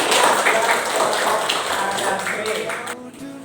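Children in a classroom clap their hands together, a loud, dense burst of applause with some rhythmic taps that fades near the end, with voices mixed in.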